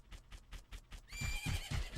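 A horse whinnies loudly after a run of steady hoofbeats clip-clopping, the neigh rising over the rhythmic steps, in the video game Majora's Mask.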